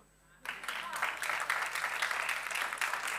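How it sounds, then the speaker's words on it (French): Applause from a church congregation breaks out suddenly after a quiet moment during a sermon, a dense steady patter of many hands that keeps going at an even level. "est-ce qu'on peut applaudir Steven?"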